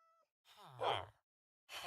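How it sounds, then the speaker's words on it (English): Two drawn-out meows from a cat in the Minecraft video game, sounding clear and close with a short silent gap between them, the first longer and rising before trailing off. "Kitty cat."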